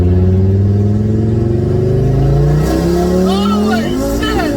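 An Audi RS3 on an E85 tune accelerates hard from low revs toward redline, its engine note climbing steadily in a loud, close roar before turning rougher and fluttering near the top.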